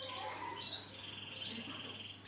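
A pet canary recovering from a nerve illness, now perching on its own, gives thin, faint chirps and a high sustained twitter in a quiet room, with a short louder click at the end.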